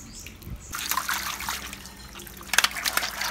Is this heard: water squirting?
yes